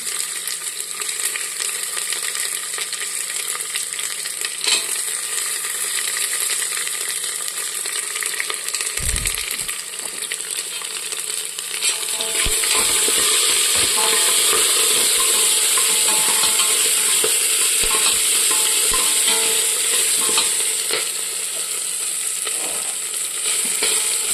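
Ginger, garlic and curry leaves hit hot oil for a beef curry, a loud continuous hissing sizzle that surges midway as more goes in, with occasional spoon knocks against the pan, close up.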